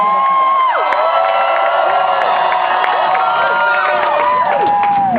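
A rally crowd at a higher education event cheers, whoops and shouts continuously, loud and dense throughout, with many voices layered close and far.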